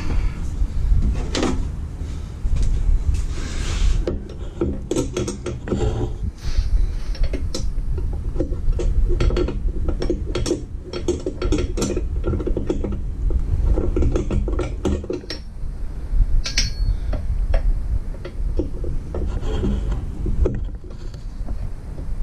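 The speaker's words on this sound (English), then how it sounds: "So let me put a wrench on it from above." Wrench working a bolt on a Jeep TJ engine mount, a busy run of metallic clicks, ratcheting and clunks from close by, continuing with no speech over it.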